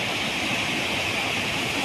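Stream water flows with a steady broadband rush and gurgle, constant and fairly close, with no break across the short stretch.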